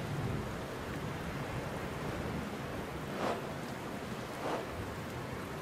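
Steady rain falls in the Soul Axiom video game, a broad even hiss with a couple of brief louder swells, moderately quiet and without talk.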